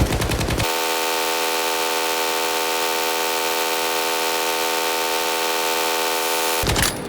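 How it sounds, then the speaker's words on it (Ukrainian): RPM light machine gun, the "Nenazhera" variant, firing a long sustained burst in the video game S.T.A.L.K.E.R. 2, an unbroken rapid, loud, buzzing stream of shots lasting several seconds. "Теперки давайте випустимо 500 набоїв."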